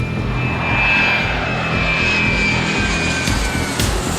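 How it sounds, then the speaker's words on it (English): Fixed-wing airplane taking off, a loud sustained engine roar with a rising whine that holds steady and close throughout, alone without talk. "Somewhere in the world, an airplane takes off."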